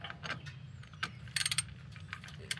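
Ratchet wrench clicks in short irregular bursts while tightening the oil drain plug on a Kawasaki Versys 650 motorcycle, close and crisp with brief pauses between strokes.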